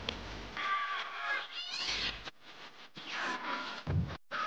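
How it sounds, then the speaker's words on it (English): Cartoon cats meow in The Looney Tunes Show, their calls mixed into busy animated soundtrack audio with music and effects. "Cats."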